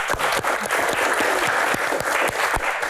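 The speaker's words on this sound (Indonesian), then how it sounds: "Tepuk tangan luar biasa" Studio audience at a Q&A show giving a round of applause, a full, continuous clatter of hands with distinct sharp claps punctuating it, close and steady without speech.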